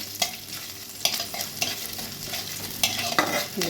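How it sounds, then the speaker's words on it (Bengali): Finely chopped coconut fries in a pan while a spatula stirs it, a soft steady sizzle broken by several sharp scraping strokes against the pan. "নারকোলটা দিয়ে দিলাম নারকোলটা একটু ভাজা ভাজা হয়ে গেলে"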